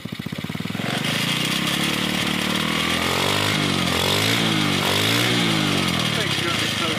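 The small engine of a cheap off-road go-kart with an aggressive cam and a chunky chain drive, idling low and then revving up and down in rising and falling sweeps, close and loud.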